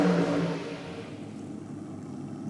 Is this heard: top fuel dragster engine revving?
yes